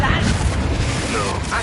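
A Confringo fire spell explodes during a Hogwarts Legacy battle, a loud, dense booming blast with low rumble that fills the short moment, with combat voices and game noise mixed in.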